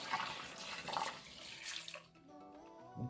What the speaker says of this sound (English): And we're just gonna pour that into here.